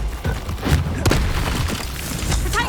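Repeated Confringo blast spells explode in Hogwarts Legacy, a series of booming, crackling bursts close together over a low rumbling bed.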